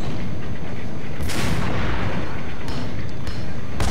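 Gunfire in the PC shooter Max Payne, heavy booming shots over a loud continuous game soundscape, with sharp bursts around the start, middle and end.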